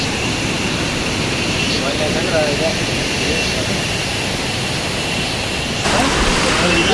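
Mookanamane waterfall at Sakleshpur roars as a loud, steady broadband rush of falling water in the rain, continuous throughout and rising slightly near the end, with faint voices beneath.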